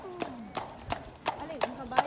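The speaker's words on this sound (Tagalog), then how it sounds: "Ay, may kabayo." Hooves of a horse pulling a kalesa carriage clip-clop in a steady, evenly spaced rhythm, moderately close, while people talk over the sound.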